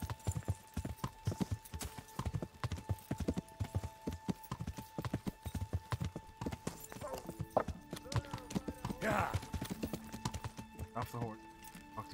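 Rhythmic clip-clop of horse hooves trotting steadily, fairly close, with a brief whinny partway through and some faint game sounds, in the video game Kingdom Come: Deliverance.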